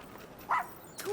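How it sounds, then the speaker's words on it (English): A puppy in Final Fantasy XVI gives two short, high whimpering yelps, close and brief, over a low background with light talk around it. "Oh, puppy."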